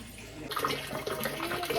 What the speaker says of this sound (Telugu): నీళ్ళుగా వస్తూ ఉన్నాయండి